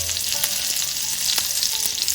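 Cumin seeds and a green chili fry in hot oil, giving a steady bright crackling sizzle with a few sharper pops, close and fairly loud with no talk.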